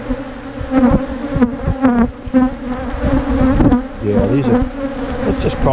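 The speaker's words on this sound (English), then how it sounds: "these bees are mean. You can hear them." Dense buzzing of many honey bees swarming close by at a hive, a steady insect drone with wingbeats rising and falling, no voices.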